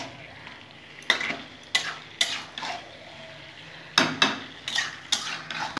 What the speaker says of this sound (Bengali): খুব সুন্দর করে আমি কষে নেব এই মশলা দিয়ে।